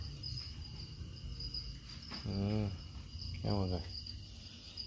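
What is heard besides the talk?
crickets chirping in a cricket farm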